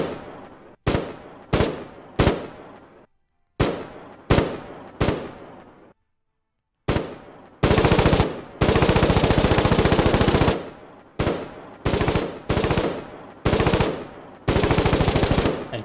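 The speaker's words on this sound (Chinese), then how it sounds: "机枪应该快一点的。" Machine gun fire in the war game Foxhole, loud bursts of rapid shots: several short separate volleys, a pause, then long sustained automatic bursts alternating with short ones.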